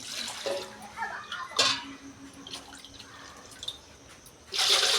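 Water poured by the bowlful into a cooking pot for sago vadiyalu, a few separate splashing pours with quieter gaps between them, the last one louder and sustained, close and without talk.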